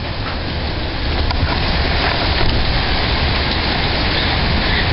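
Heavy Kansas thunderstorm rain pours steadily at close range, a dense unbroken hiss with a few faint sharp ticks that could be small bits of hail striking.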